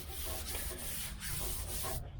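Sandpaper rubs across a 1972 Chevy Nova body panel during paint prep, a close, steady scratchy back-and-forth with rhythmic strokes about every half second and no voices.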